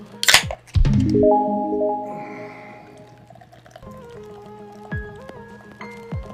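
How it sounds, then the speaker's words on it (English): Sea Dog beer poured into a glass: a sharp crack of the bottle opening, then a gurgling, fizzing pour with rising tones, settling into quiet bubbling and a few clinks. "Ah, the sweet sound of lovely beer."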